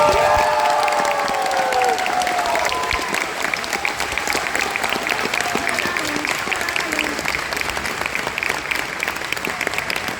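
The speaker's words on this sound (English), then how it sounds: "I just want one more round of applause." Steady applause from a crowd at a 1v1 tournament grand final fills the whole stretch, dense and continuous, with some cheering mixed in near the start.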